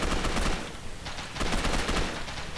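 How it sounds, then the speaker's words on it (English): Salt rifle gunfire in the video game Gotham City Impostors, a rapid series of close, loud shots in quick bursts with a brief lull midway. "Shooting through a bush."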